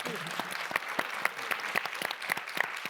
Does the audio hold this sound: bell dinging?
no